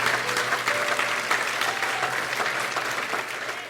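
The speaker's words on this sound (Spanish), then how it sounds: "Den un aplauso al Señor" A church congregation breaks into sustained applause, a thick, even patter of many hands clapping together at moderate loudness throughout.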